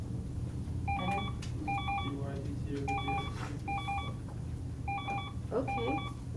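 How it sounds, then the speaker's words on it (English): A mobile phone goes off in a classroom during a lesson, its electronic ringtone pulsing in short repeated bursts at moderate volume over steady room noise and faint voices. "why is my phone ringing?"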